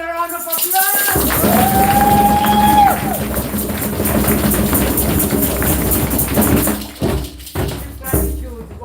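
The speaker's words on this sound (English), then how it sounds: "let's give him a round of applause." Audience at a gathering honoring the ancestors at the close of a season, breaking into loud, sustained applause and cheering that fills the room for several seconds, with voices mixed into the crowd noise.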